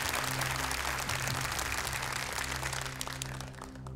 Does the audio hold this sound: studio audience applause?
yes